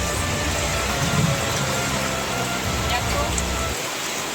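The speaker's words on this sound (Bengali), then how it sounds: "প্রচন্ড বৃষ্টি হচ্ছে" Heavy rain pours onto a tin-roofed shed in a dense, continuous patter that stays loud and steady, with a low rumble underneath that cuts out just before the end.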